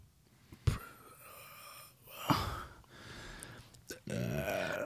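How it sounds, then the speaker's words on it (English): A long, low, rumbling burp followed by further guttural belching sounds during a casual podcast conversation, close to the microphone with breathy pauses between them. "I smelled that burp from here"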